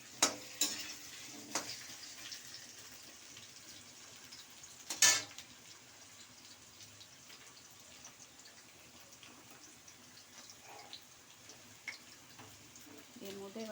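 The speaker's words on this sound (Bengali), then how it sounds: "একটু আলুটা নেড়ে নিই।" Potatoes frying in a pan as they are stirred, soft sizzling with a few sharp utensil scrapes and clinks near the start and middle, quiet and close.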